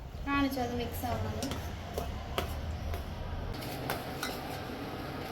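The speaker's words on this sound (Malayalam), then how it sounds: "ഇനി നമുക്ക് ഓഫ് ചെയ്തിട്ട് നന്നായിട്ട് മിക്സാക്കി എടുക്കാം" A spoon clinks and scrapes in a pan while custard pudding mixture with gelatin is stirred off the heat, giving scattered light taps and knocks under ongoing speech.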